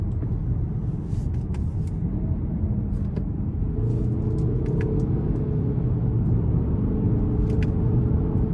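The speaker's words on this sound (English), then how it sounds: "Now I'm gonna try the paddle shifters out just in normal mode," A 2024 Lincoln Corsair Reserve under light throttle in normal mode with paddle shifts, heard as a steady low engine and road rumble from inside the cabin, with faint clicks scattered over it.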